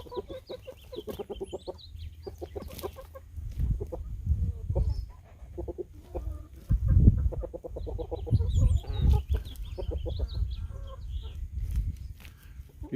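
Young pullets from a 2023 flock cluck and murmur in a farmyard, soft overlapping calls coming in quick irregular bursts that are near and moderately loud against faint background noise.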